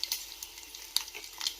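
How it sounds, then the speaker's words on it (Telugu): Spices such as mustard seeds, cumin, garlic and dried red chillies are being tempered in hot oil for tomato rasam, giving a soft, crackly sizzle with small sharp pops scattered across the short stretch. "పోపు పెట్టుకోవాలి."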